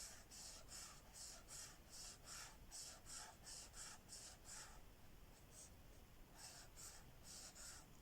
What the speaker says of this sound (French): J'adore ces feutres, ils sont tellement glissants sur le papier.